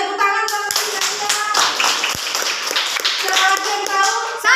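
Classroom group clapping during a micro-teaching lesson, a quick patter of claps close by, mixed with children's voices and talk.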